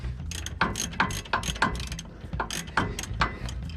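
A ratchet clicks in quick uneven bursts while loosening brake caliper bolts on a Duramax truck, close and crisp, with no talk.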